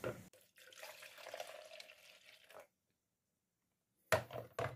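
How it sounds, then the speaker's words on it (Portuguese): Water pours steadily into the reservoir of a simple household electric coffee maker for about two seconds, then stops, followed by a short silence and a couple of close knocks or clatters. "Eu vou colocar água aqui, ó."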